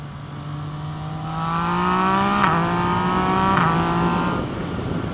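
A Yamaha FZ09 motorcycle with a quickshifter accelerates at higher RPM, the engine note climbing steadily with two quick clipped upshifts that briefly dip the pitch, loud and close with no talking.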